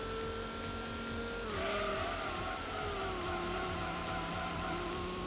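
A tuned race car in Gran Turismo holds a loud, steady engine drone, with a brief tyre squeal as the pitch dips and climbs again through a corner.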